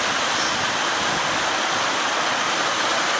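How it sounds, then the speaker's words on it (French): A waterfall in Vigo pours down a cascade into a small pool, giving a steady, dense, close rushing roar with no breaks and no voices. "Et le Bicho, le pote de Mathias, il disait qu'il a déjà fait toute la cascade jusqu'en bas"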